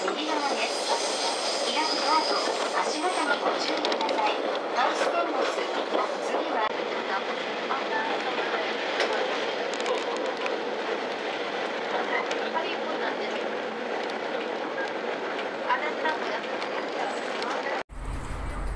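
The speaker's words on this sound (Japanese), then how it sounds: "列車は間もなくハウステンボスに到着いたします" A sightseeing train arriving at Huis Ten Bosch station rolls along with steady rumble and rail clatter, broadband and continuous, a faint voice mixed in, ending with an abrupt shift near the end.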